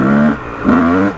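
A Yamaha YZ250 two-stroke dirt bike engine revs hard on the throttle in two sharp, close bursts separated by a brief dip, each rising in pitch with a buzzing tone, and no voices over it.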